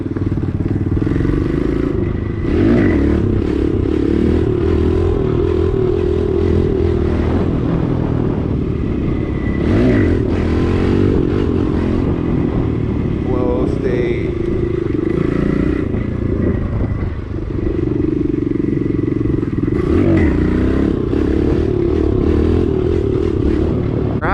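A Kawasaki KLX 110L dirt bike engine revs loudly and close throughout a wheelie ride, rising and falling in repeated surges with some clatter and scraping between.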